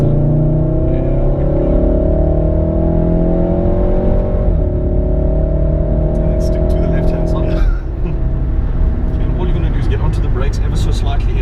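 A car accelerates hard on a driving course, its engine revving loud and close with rising pitch, shifting gears twice and climbing again, while an instructor talks throughout.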